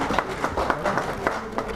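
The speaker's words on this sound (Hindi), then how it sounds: "जोरदार तालियां" Audience clapping at an award ceremony on medicine and media, a short burst of rhythmic, fairly even claps at moderate loudness with no voices on top.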